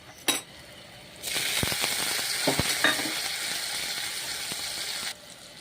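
Tomato dropped into a pan of fried onions for a pea and mushroom curry sets off a sudden loud sizzle that holds steady and close for several seconds, then cuts off.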